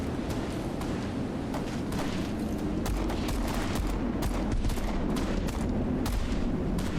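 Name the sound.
gunfire in a video game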